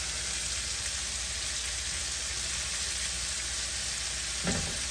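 Shrimp frying in a hot pan for shrimp burgers, a dense, even sizzle held close and loud throughout, with a brief clack near the end and no talking.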